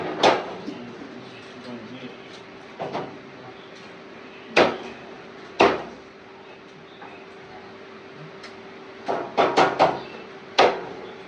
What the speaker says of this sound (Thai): ตอนนี้กำลังตอก